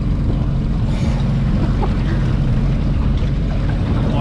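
Steady low rumble of a motorboat engine cruising away from a saltwater crocodile, continuous and even, with wind noise across the microphone.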